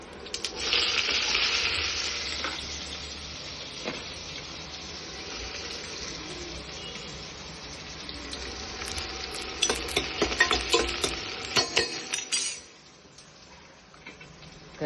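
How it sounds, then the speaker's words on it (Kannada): Onions frying in hot oil with mustard seeds and cumin give a steady bright sizzle, joined later by sharp stirring scrapes and clinks before the sizzle suddenly drops away near the end. "ಇದು ಈರುಳ್ಳಿ ಸ್ವಲ್ಪ ಚೆನ್ನಾಗಿ ಬೇಯಲಿ."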